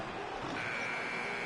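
A short, loud electronic end-of-quarter buzzer from NBA 2K16, a steady tone holding over game noise for just over a second.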